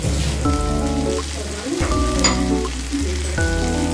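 Turmeric goes into a potato and pumpkin vegetarian curry frying in a pan over low heat, and the mix is stirred. Close, steady sizzling sounds with scraping stirs, over a recurring tonal hum.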